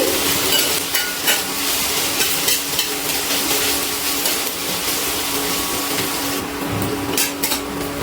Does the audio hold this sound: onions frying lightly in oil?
yes